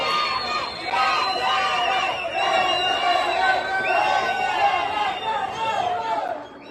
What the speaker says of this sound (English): You're going to see the crowd outside yelling close up, and saying afuera, afuera, meaning close up and come outside